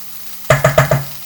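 A spoon stirs vegetable curry in a pot, four quick close scraping knocks in a brief run, with no talking.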